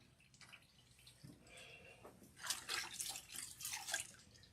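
Water runs and splashes in bursts while rinsing a deep treatment out of hair, faint and intermittent with irregular dripping and pouring sounds.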